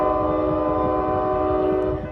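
An Amtrak Capitol Corridor train, cab car 8309, sounds its horn as a loud sustained chord right at the Central Ave crossing in Newark. The blast holds steady for about two seconds over a rumbling train and fades slightly at the end.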